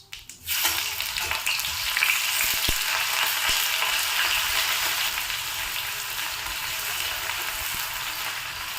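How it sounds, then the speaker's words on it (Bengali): Chopped onions hitting hot oil in a pan for ghugni, bursting into a loud, sustained sizzle with occasional faint clicks of stirring, steady and close. "একটু পেঁয়াজটা ভাজা ভাজা হোক"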